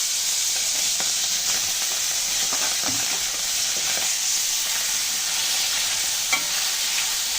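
Small fish frying in hot oil in a pan with radhuni seeds, a loud continuous hissing sizzle with a few faint utensil scrapes underneath, no talking.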